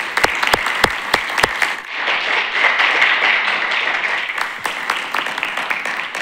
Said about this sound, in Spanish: me gustaría daros un fuerte aplauso y agradeceros vuestras intervenciones